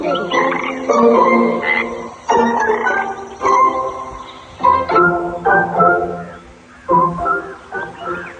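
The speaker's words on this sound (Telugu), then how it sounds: "ఆ పక్కన ఒక చెరువులో బోలెడన్ని కప్పలు నివసిస్తూ ఉండేవి." Loud, overlapping croaks from many frogs in a pond come in irregular bursts, a busy chorus with short gaps between calls.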